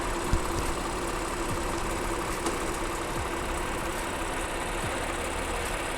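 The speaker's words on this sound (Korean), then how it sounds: "엔진 소리 일정하네요." A third-generation Honda Pilot with a 3.5-litre engine idles steadily in an open engine bay, giving an even, continuous hum with faint ticking and no revving.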